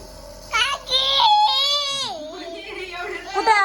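A baby cries in short wailing bursts close up, rising and falling, with an adult voice speaking nearby.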